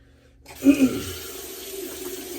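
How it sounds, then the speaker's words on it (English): A bathroom sink tap is turned on after a moment of near silence, releasing a sudden gush that settles into a steady stream of running water close by. "Gonna switch to cold water right here."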